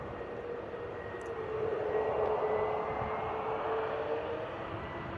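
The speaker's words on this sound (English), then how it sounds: "This KLM Embraer 175 is not going to use much runway at all." A KLM Embraer 175 airliner takes off from the runway at Bristol Airport: a steady, fairly distant jet engine roar that swells slightly as it climbs, with a faint whine riding on top.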